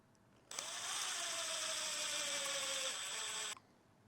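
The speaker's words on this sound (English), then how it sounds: "You're just going to use your stock screws and screw it back together" A small power driver whirs continuously for about three seconds, driving stock screws back into a Traxxas Mini Maxx RC truck differential; the motor pitch sinks slightly under load before stopping abruptly, close and alone.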